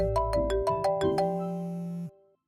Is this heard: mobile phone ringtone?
yes